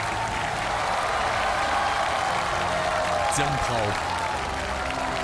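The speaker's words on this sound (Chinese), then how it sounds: "掌声有请越战越勇评委" A studio audience applauds as the judges of a Chinese TV talent contest are welcomed, with broad steady clapping throughout and a host's amplified voice announcing names over it.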